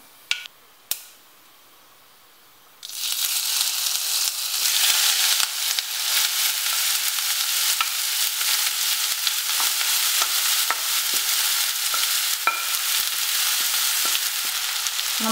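Chopped banana flower hits a pan of popped mustard seeds for Kerala thoran, after a couple of light taps, erupting into a loud, continuous hiss and crackle that holds steady with occasional stirring clicks.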